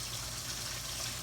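Tap water pours steadily into a kitchen sink, rinsing Italian dressing off chitterlings in a colander, a close, continuous gushing splash.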